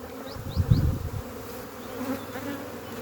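Honeybees buzz steadily around an open hive while frames are lifted and moved to make an artificial swarm, with a louder burst of close buzzing early on before it settles into a continuous low hum.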